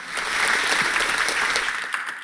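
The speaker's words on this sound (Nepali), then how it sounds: "हुम्लाका कलाकारहरूलाई जोरदार ताली।" A studio audience at a Nepali television stage show gives steady, full applause to performing artists from Humla. Dense clapping holds throughout at close range.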